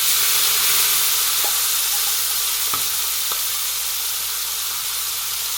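Curry leaves and dried anchovies frying in a pan make a steady, loud sizzle from start to end, with a few faint clinks partway through.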